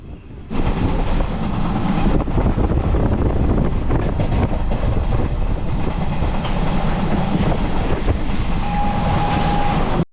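Passenger train running from Mangalore toward Karwar, a loud steady rumble with rhythmic clickety-clack of wheels on rail joints and wind buffeting, heard from close on board.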